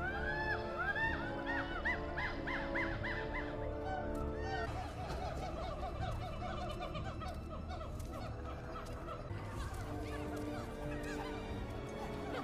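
A cartoon bird squawks and honks repeatedly in a jungle setting, goose-like calls rising and falling over a busy orchestral music bed, loud and continuous throughout.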